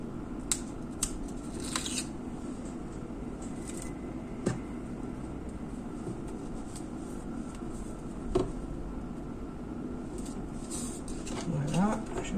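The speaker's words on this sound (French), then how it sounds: "je vais recouper ma dentelle" Scissors snip lace in a few sharp, separate cuts heard over a steady background hum while someone talks, with light paper and handling rustles around the snips.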